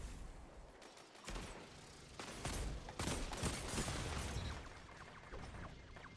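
Hand cannon fire in Destiny: a string of heavy gunshots with sharp cracks and booms, spaced irregularly over a few seconds amid game noise, fairly close and punchy, with no talk.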